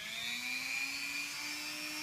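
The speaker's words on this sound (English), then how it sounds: "I'm going to first turn on the drill so he knows what's coming." A Dremel rotary tool spins at fast speed before a dog's nail trimming, giving a steady, continuous high-pitched whine with a slowly rising tone, close and alone for two seconds.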